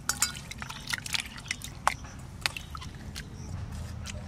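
Shrimp being rinsed by hand in water, with irregular splashes, drips and squishy handling sounds in short bursts over a low steady background.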